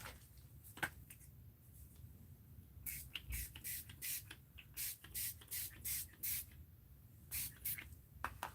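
Glimmer Mist shimmer spray paint is sprayed in a series of short, soft hissing bursts in a fairly steady rhythm, faint and close, over a quiet room background.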